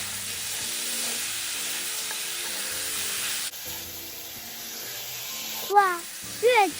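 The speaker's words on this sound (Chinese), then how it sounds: "这时候再取出腌制后的排骨，倒入锅内，一起翻炒均匀，一直拌炒至排骨均匀裹上焦糖色" Marinated pork ribs stir-fried in melted caramel in a wok, a broad steady sizzle that drops in level midway, with short tonal chirps rising over it near the end.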